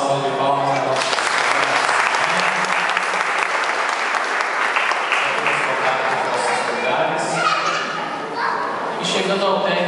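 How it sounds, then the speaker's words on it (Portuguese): Congregation applauding during a Catholic baptism celebration, a loud, dense round of clapping sustained for several seconds with voices talking and calling out over it, tapering slightly near the end. "Mais uma salva de palmas a nossa"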